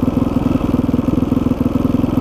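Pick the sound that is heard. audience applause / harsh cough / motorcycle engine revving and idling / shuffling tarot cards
motorcycle engine revving and idling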